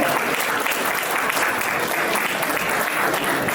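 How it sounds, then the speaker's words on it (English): Dense, sustained applause fills the hall at a Teej 2023 celebration of Rajasthani tradition, a loud and even wash of many hands clapping with no break. "Everybody, give us a big round of applause."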